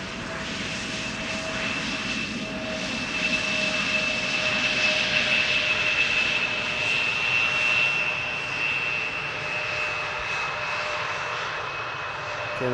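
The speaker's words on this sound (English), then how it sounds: "I see a 777 coming to the Polderbaan" A Boeing 777 jet airliner arrives at Amsterdam Schiphol Airport, its engines making a steady, loud roar with a high whine that holds throughout.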